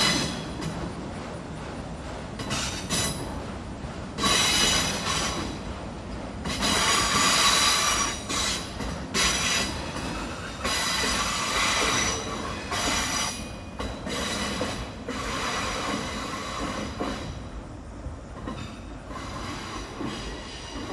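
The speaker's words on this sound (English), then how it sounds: "That's a curved trestle. That's why they're making all that racket across there." A long freight train rumbles across a curved high trestle, wheels squealing and grinding loudly in waves with rhythmic clatter throughout, no voices.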